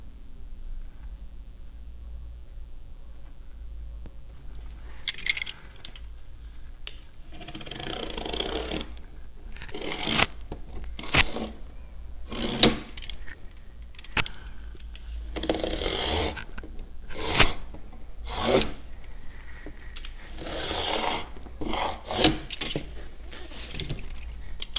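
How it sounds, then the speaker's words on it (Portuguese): A new, sharp utility knife cuts cardboard for a custom box in a series of close, scraping slices that come in uneven bursts with short pauses between strokes. "Vou pegar o estilete que tem que estar sempre novo e vou cortar"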